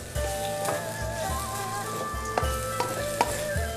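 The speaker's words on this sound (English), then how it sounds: "Stir fry a little bit." Three cups of rice stir-fried in a hot pan for fried rice, a steady sizzle with repeated scraping and tossing strokes of a spatula and a few sharp knocks against the pan.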